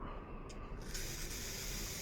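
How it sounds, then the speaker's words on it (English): Carburetor cleaner sprayed from an aerosol can into the holes of a surging push mower's carburetor, a close, steady hissing spray that grows stronger and brighter about a second in and keeps going to the end, with no talking. "anywhere you see a hole, you want to spray it"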